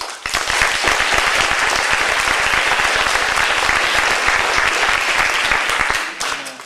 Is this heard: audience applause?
yes